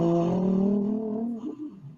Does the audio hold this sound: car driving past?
yes